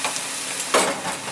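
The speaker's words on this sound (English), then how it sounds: "Stir it again so it don't burn" Food is stirred in a pot on a stove burner turned down low while making stuffed peppers, with a steady sizzling bed broken by a louder scraping stir near the end.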